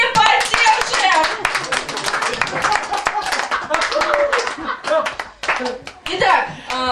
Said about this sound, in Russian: Аплодисментами поддержим!